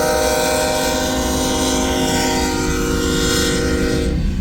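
An empty coal freight train rolls by at Pacific Junction, Iowa, heading westbound out of Kansas City, loud and close, its steady rumble of wheels overlaid by a sustained tonal hum that drops in pitch as it passes, no voices.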